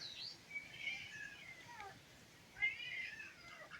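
A cat meows twice in a workshop, with the two calls spaced a second or two apart and fairly faint against a quiet background; possible bird chirps sound faintly.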